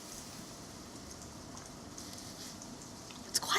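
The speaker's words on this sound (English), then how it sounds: "I kind of like the sound of rain and hail on the..." Steady rain and hail drum on a house, forming a dense, even patter that fills the background, with a few sharper bright hits near the end.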